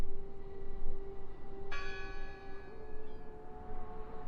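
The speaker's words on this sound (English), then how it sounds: "I heard the bell." A single church bell strikes once in the video game Draugen, a clear ringing tone decaying over a couple of seconds above a steady low ambient drone.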